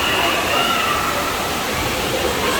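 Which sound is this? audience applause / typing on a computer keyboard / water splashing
water splashing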